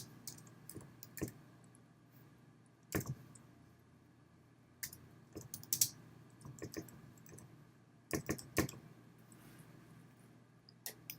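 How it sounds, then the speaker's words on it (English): Keys on a computer keyboard tapped in short, scattered bursts of close clicks with quiet pauses between them. "in here I can type whatever I want"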